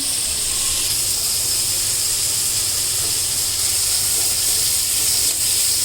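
Broccoli with red, green and yellow capsicum and ginger-garlic paste frying slowly in a pan over low heat, giving a steady, even hiss that holds for the whole stretch, close and with no voices.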